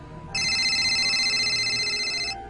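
A telephone rings in one continuous bright electronic trill lasting about two seconds, loud and close against a faint low background, as a sound effect in a horror story.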